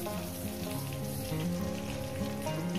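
Ground ginger, turmeric and spices frying in a pan for a spinach and radish dish with tiny fish, a soft steady sizzle under a low hum of background noise.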